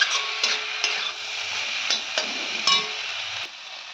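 Spices frying in a pan for a dried-fish curry, a bright sizzle with repeated spatula scrapes and clinks against the pan roughly every half second, close and clear without speech.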